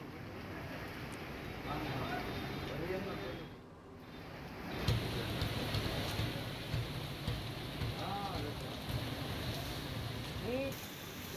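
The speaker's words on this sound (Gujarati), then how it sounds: "અમરેલીમાં ધોધમાર વરસાદ।" Heavy downpour over Amreli city, a dense, steady wash of rain on surfaces that fills the scene at an even level, with a few faint voices and passing sounds underneath.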